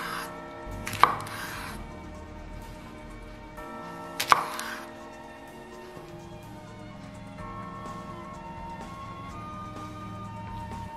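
A knife slices through pork on a cutting board, with two sharp, distinct thunks a few seconds apart over a quiet background and no speech.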